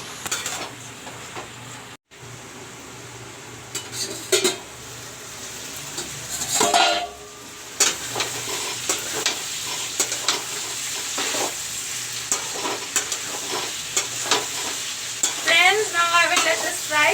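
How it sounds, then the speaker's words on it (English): Parwal bhujiya (pointed gourd) sizzles as it fries in a pan, a steady crackle with the occasional clink and scrape of a spoon stirring against the metal, fairly close and with no voices. "now I will let this fry."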